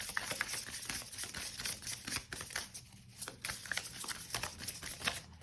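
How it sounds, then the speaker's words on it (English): A standard-size luxury tarot deck is shuffled continuously at close range, producing a steady, soft papery rustle dotted with light card clicks and taps. "This deck is so luxurious to shuffle."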